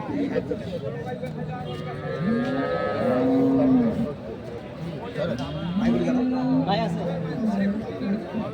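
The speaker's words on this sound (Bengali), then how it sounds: "আপনারা দেখছেন দুধের গাভী গরুগুলো" Dairy cows and calves at Ambari cattle market in Dinajpur give several loud, drawn-out moos one after another, close by, over steady crowd chatter and people talking.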